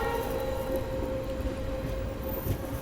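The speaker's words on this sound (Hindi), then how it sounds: "अब यहाँ अपनी ट्रेन साबरमती रेलवे स्टेशन को स्किप कर रही है।" Express passenger train on the Bandra–Jodhpur Suryanagri route rolling through Sabarmati station without stopping, giving a steady, close rumble of wheels and carriages with a constant tonal hum throughout.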